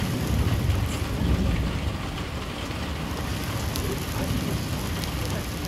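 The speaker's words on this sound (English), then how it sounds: "There's some hail coming down now." Hail comes down outdoors as a continuous, moderately loud patter and hiss on surfaces, with no voices.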